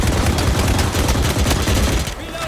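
Rapid gunfire in the Valorant tactical shooter during a semifinal match on the Lotus map, dense continuous bursts filling the whole stretch at close range, with players' voices faintly mixed in.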